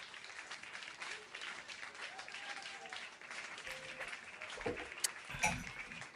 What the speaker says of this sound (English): Oh, I'm going to hit that applause button.